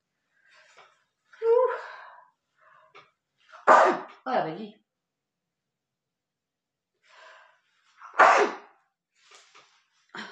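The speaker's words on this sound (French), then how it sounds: "Je vais éternuer mes chatonnets." A woman sneezes twice, each a sharp close burst after a short breathy build-up, with a few quiet murmured words between them.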